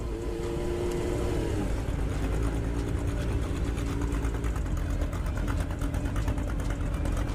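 A motorcycle engine runs steadily on a wet road at a bike night, a continuous close rumble with a buzzing, sewing-machine-like texture and a slight pitch rise near the start, with no talking.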